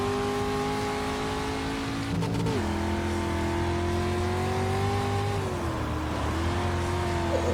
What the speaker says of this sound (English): I'm going to drive the dirt street stock